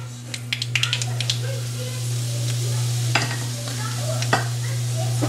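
Chili powder stirs and sautés in hot oil for a mango pickle, a low steady sizzle under a constant hum, with light scraping clicks of a spoon against the pan.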